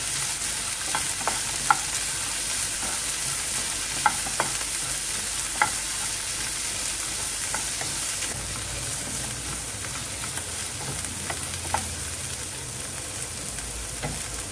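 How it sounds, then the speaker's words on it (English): French beans sautéed in a pan for hara bhara kabab, giving a continuous dense sizzle with regular light scrapes and taps from stirring, steady and close, with no voices. "French beans, saute for some time."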